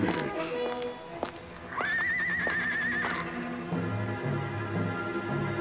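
Horses whinny in a sea-adventure drama scene, a rising neigh ringing out loudly near the middle amid clip-clopping hooves and a busy outdoor bustle, with voices shouting around it.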